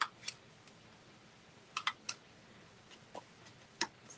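A We Are Memory Keepers Crocodile Corner Trimmer cutting paper edges gives a few sharp, quiet clicks and snips, scattered irregularly across a silent background with no talking.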